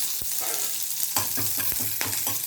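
Red chilli and curry leaves frying in hot oil, a dense crackling sizzle with sharp pops and stirring clicks at irregular intervals, close and steady, no talk.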